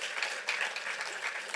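An audience at a fair housing evening event claps together, a dense even wash of hands at moderate, somewhat distant level, sustained and without voices on top.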